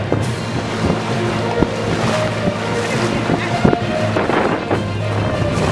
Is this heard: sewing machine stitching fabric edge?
no